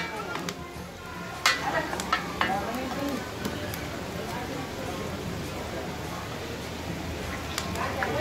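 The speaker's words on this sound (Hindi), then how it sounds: "के इसको भून रहे हैं, मिक्स कर रहे हैं।" Chicken with chili and masala frying and being stirred in a pot, a steady sizzle with scraping stirs and occasional clinks throughout, fairly close.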